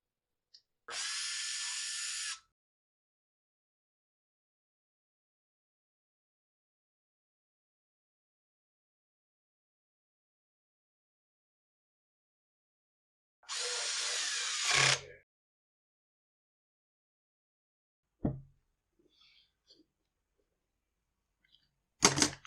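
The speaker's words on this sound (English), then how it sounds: "the 2 screws that hold the fuel tank down." Two short bursts of a small power driver backing out the pair of screws holding down the fuel tank on a Husqvarna 125B leaf blower, each whirring briefly in a quiet room, followed by a few soft clicks and knocks.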